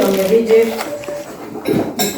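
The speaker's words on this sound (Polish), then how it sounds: "Złote sztućce!" A gold cutlery set clinks in a couple of brief, light metallic chinks near the end, heard close up under people talking indoors at a Christmas Eve gathering.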